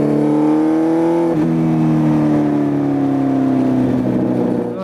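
A motorcycle on new tyres that are not yet broken in is heard close up as a loud, steady engine drone that rises in pitch, drops briefly as it shifts gear, then climbs again smoothly under gentle acceleration.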